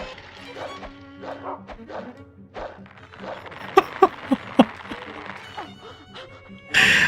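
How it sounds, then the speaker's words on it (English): A dog barks and whimpers in the horror video game Rule of Rose, with a few sharp cracks in the middle and a louder burst near the end, all under a game soundtrack and brief talk. "That poor dog."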